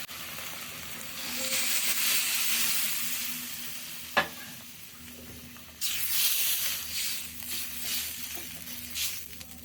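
Water and tangra fish going into a hot frying pan: a steady sizzle and hiss rises sharply near the start, and after a sharp clink, a fresh louder burst of frying erupts close by as the fish goes in, with no talking.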